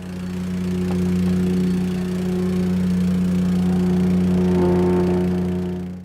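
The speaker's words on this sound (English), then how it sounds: "I'm going to hit it with the whacker" A plate compactor whacker runs on dampened paving sand, a loud steady engine drone with strong low vibration, close by and continuous with no voices.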